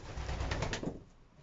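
Racing pigeons from a Polish breeder's loft coo in a brief, soft burst of low throaty calls that fade out after about a second.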